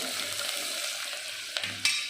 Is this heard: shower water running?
no